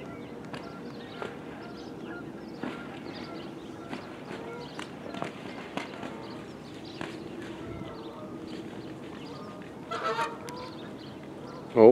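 Geese fight and honk near a fishing spot, sharp scattered honks and squawks over a low background rumble with occasional scuffling, a louder burst of calls near the end, no talking.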